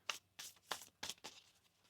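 Tarot cards being shuffled by hand in five quick, crisp bursts of riffling, close and fairly quiet against a near-silent room.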